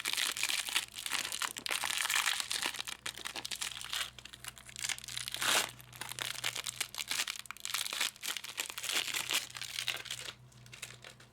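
Adhesive tape peeled off shoes repaired with Shoe Goo, a steady close crinkling and tearing rasp with a sharp rip midway, running continuously with no talk.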